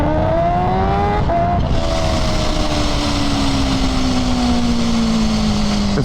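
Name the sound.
superbike motorcycle engine accelerating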